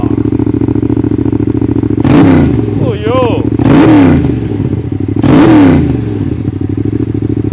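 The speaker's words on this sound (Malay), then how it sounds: "Start dengan enjin punya bunyi dulu." A Yamaha MT-07 or Suzuki GSX-8S motorcycle engine idles steadily, then revs up three times in sharp bursts, each rising and falling back to idle; a brief voice is heard between revs.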